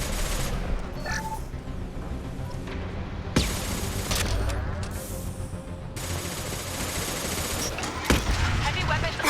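Heavy gunfire rages through a Mass Effect 2 firefight, a dense, continuous barrage of shots with sharper bursts standing out, and voices occasionally mixed into the din.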